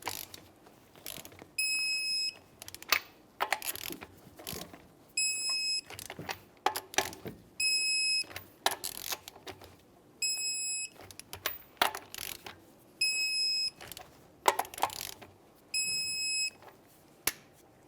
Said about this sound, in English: let's torque these to 103 foot-pounds in a crisscross manner